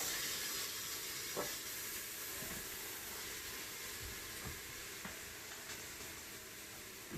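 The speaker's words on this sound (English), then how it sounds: "put all this vegetables in the bottom of our quick cooker to sear for a few minutes" Vegetables sear in the bottom of a quick cooker pot for chili, giving a steady, faint hiss of sizzling throughout with a few soft clicks and taps.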